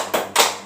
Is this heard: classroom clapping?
yes